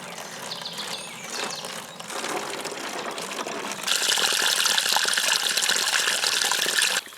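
A water bottle fills from a high-altitude mountain stream in Salta, Argentina: steady rushing and gurgling flow that turns louder and brighter partway through, then cuts off abruptly near the end.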